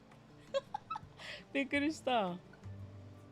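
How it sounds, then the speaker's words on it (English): Indoors, a dog whimpers in a cluster of short, high-pitched whines and rising cries, fairly close, separated by quiet gaps, with a low hum underneath. "Be quiet, dog."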